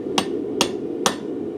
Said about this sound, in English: I'm gonna hammer down into the crotch with the U side of my chisel